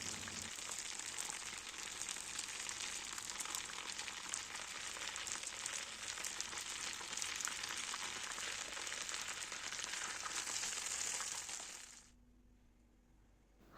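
Yeast-free puffed fried dough sizzles steadily in hot oil, a dense, continuous crackling hiss at close range that runs for about twelve seconds and then cuts off abruptly into quiet.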